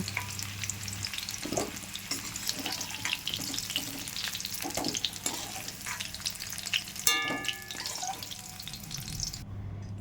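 Close, steady sizzling of elephant foot yam pieces frying in oil, with occasional stirring scrapes and no talking.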